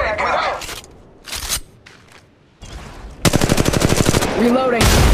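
Automatic weapon fire in Apex Legends Mobile gameplay, short bursts followed by a long rapid burst of close gunshots, mixed with game voice callouts and effects.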